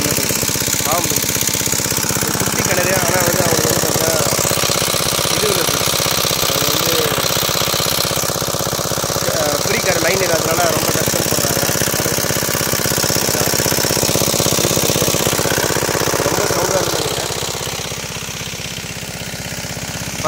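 A diesel engine on a farm, used for grinding, runs continuously up close with a loud, rapid knocking chug, and a voice talks intermittently over it before the engine noise eases slightly near the end.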